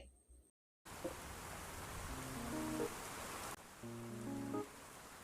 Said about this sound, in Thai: ฝนเริ่มตกแล้วฮะ